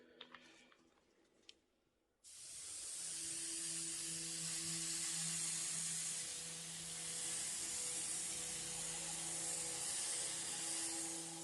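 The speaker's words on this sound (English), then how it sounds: "Now again, we're back into the airbrush" An airbrush sprays acrylic paint for rust weathering effects. After a couple of seconds of faint ticks, a sustained, close hiss of air starts abruptly and runs steadily to the end, with a faint compressor tone underneath.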